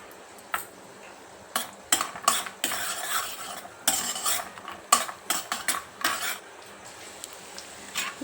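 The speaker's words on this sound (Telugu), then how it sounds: "బాదాం, కాజు వేసుకొని వేయించుకొని నెయ్యిలో ఇది ఒక గిన్నెలోకి తీసేసుకున్నాం." Almonds and cashews being fried in ghee in a pan for wheat flour halwa, heard as scattered spoon stirs and metallic clinks against the vessel over a soft background hiss.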